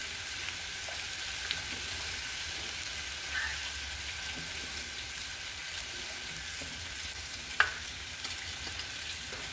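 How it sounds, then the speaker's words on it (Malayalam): Onion and chili powder frying and being stirred in a pan, a soft steady sizzle with faint scraping, no talk. "ആവശ്യത്തിന് ഇത് നന്നായി ഇളക്കി കൊടുക്കുക."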